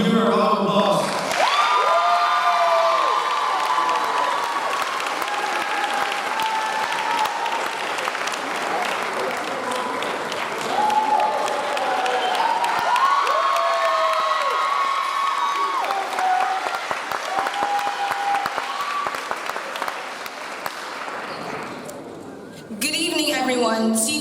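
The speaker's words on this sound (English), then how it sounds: "May you give her a round of applause." A middle school graduation crowd applauds a class speaker, sustained clapping with some cheering that fills the hall for about twenty seconds before fading, while a voice talks over it.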